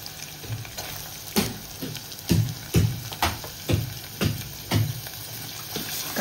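Onion sizzles and fries in a pan with curry leaves, green chilli, ginger and garlic, with a steady hiss broken by about seven louder scraping stirs, close and fairly quiet, no talking.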